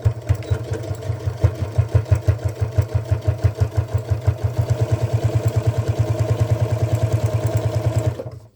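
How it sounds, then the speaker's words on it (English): A sewing machine stitches a one-piece tote bag, a fast steady mechanical chatter with even rhythmic pulses running close and loud, stopping abruptly at the end. "Okay, so we're going to start to sew."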